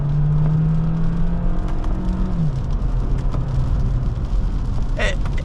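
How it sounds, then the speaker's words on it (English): A 2025 Kia Sportage plug-in hybrid is driven with the paddle shifters, its engine giving a loud, steady hum with shifting tonal drone under road noise inside the cabin. "So I am going to paddle shift"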